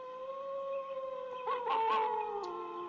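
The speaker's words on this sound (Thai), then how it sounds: "เสียงสุนัขตัวหนึ่งที่บ้านหลังหนึ่งก็ได้หอนขึ้นมา" A single dog howls in a long, sustained, wavering tone that rises and bends partway through, moderately faint, with no other sounds.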